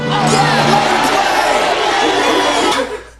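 A large crowd at a speech cheers and shouts loudly in a sustained roar that fades out at the end.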